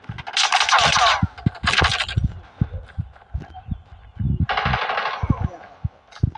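Bursts of automatic gunfire from the mobile shooter game Call of Duty Mobile, rapid sprays separated by short pauses, with game sounds and a player talking in between.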